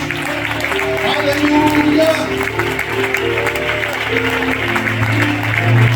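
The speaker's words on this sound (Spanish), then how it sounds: "Aplausos para Dios" A church congregation applauds during a Spanish-language worship service, steady clapping filling the room under sustained music tones, with a voice calling out over it.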